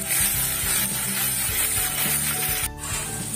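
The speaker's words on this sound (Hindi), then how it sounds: "अब इसमें अदरक लहसुन का पेस्ट डालेंगे, इसको भी हम अच्छी तरह से भूनेंगे।" Ginger garlic paste sizzles in hot oil with onions for bhindi do pyaza, a steady close frying hiss broken by rubbing scrapes of stirring, alone with no talk.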